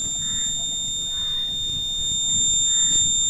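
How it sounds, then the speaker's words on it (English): A heartbeat monitor's buzzer alarm gives three short, faint beeps spaced unevenly, under a thin, steady high-pitched electronic whine and low background hum. "The buzzer is turned on"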